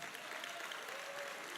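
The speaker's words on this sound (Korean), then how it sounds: "박수를 보내고 싶습니다." Faint, distant applause rises from a Korean party gathering in Chungbuk for a candidate, a soft continuous patter of many hands, heard thinly and at low level.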